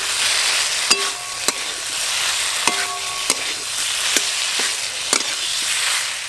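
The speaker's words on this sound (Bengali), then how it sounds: "মশলার সঙ্গে ফুলকপি ভালো করে কষানো হয়ে গেছে" Cauliflower florets sautéing in a pan of ground spice paste, with a steady close sizzle and sharp spatula scrapes and taps roughly every second or so as the mixture is stirred.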